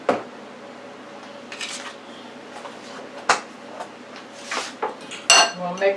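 A utensil mixes sour cream in a dish for a jalapeño steak omelette, giving soft scattered clinks and scrapes against the dish between quiet pauses.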